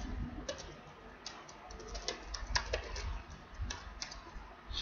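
Fingers type on a computer keyboard at a desk while entering a C program, a run of quick, irregular, close key clicks and taps, some louder than others, over a faint low room hum.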